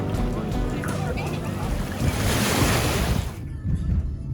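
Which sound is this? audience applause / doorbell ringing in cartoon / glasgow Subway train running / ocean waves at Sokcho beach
ocean waves at Sokcho beach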